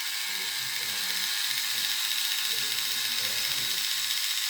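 A model train engine's small electric motor runs with a steady whirring, gear-like buzz and faint rapid ticking, close and continuous throughout.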